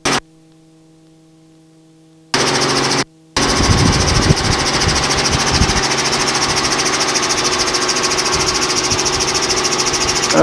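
A helicopter engine and rotor run loud and steady from inside the cabin during the climb after departure, following a brief near-silent gap and a short cut at the start.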